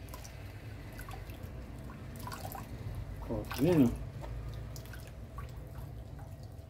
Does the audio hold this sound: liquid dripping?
yes